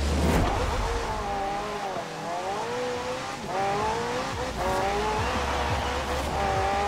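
A McLaren P1 in Forza Horizon 4 revs and shifts gears continuously, hitting the rev limiter in third, with tires hissing on a wet surface, loud and close, no talking.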